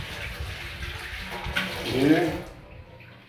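Water pours into a birds' bathing dish, a steady splashing trickle that swells louder near the end and then cuts off, with a voice speaking briefly.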